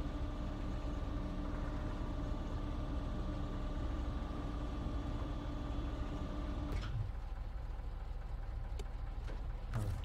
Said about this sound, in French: Le moteur, changer de camion.